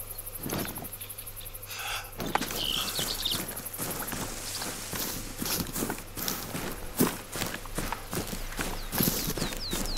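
Footsteps crunching through woodland undergrowth during a roe deer hunt, a steady series of irregular steps near to mid-distance, with rustling between them and no talking.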